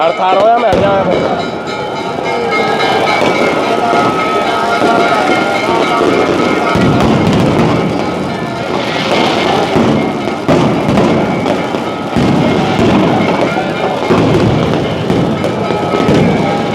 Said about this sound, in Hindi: पूरे बरसाना धाम में आतिशबाजी चल रही है।